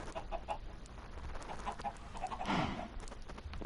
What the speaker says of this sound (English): I'm gonna feed my chickens.